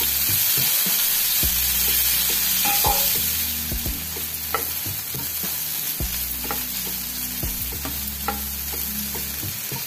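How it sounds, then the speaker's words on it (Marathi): Masala sautés in hot oil with a loud, continuous close-up sizzle, broken by repeated scraping stirs of a spoon against the pan. "आपण जो मसाला ठेवलेला आहे तो तेलामध्ये परतून घ्यायचा"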